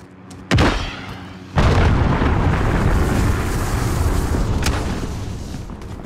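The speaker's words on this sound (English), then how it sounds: "Enemy cruise missile incoming." Heavy explosions from a cruise missile strike in a video game: a sharp blast followed by a second bigger boom that rolls into a long, loud rumbling roar, with no talking over it.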